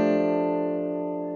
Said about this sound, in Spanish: la pequeña introducción es el fa sexta con novena añadida, que suena así